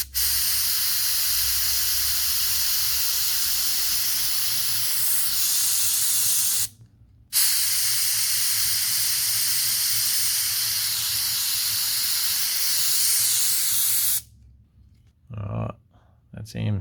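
Spray paint hissing onto a model crayfish in long, loud, continuous bursts, cut by a brief pause near the middle and ending in shorter sputtering puffs.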